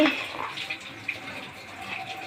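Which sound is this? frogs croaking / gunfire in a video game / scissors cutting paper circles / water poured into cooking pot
water poured into cooking pot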